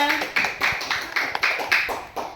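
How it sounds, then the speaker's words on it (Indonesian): Applause from a classroom or workshop audience of teachers after a reflection presentation, a continuous patter of many hands clapping in uneven bursts, fairly close, with no talk over it. "Tepuk tangan buat semuanya."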